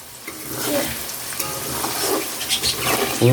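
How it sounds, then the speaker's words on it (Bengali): Onions sizzle and hiss in a hot pan, frying for a chicken dish, with stirring scrapes and bubbling crackles, continuous and fairly loud up close. "পেঁয়াজ ভাজা হচ্ছে"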